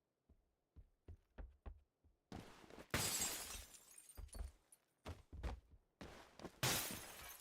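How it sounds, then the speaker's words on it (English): Glass breaking in the PUBG video game: a few soft thuds, then repeated bright shattering crashes in separate bursts, each loud and sharp with brief gaps between. "Keep breaking glass, hoping that somebody pushes me somewhere."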